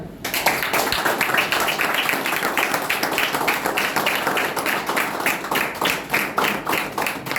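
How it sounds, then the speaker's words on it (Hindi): An audience at a network marketing training event claps to welcome a speaker, a brisk, continuous patter of many hands that keeps up steadily for several seconds. "आप सारे दोस्त मीठी मीठी तालियों से स्वागत करें, मिस्टर राम सर"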